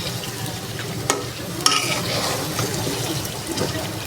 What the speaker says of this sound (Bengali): কচুমুখী দিয়ে দিয়েছি, এখন কষিয়ে নেব।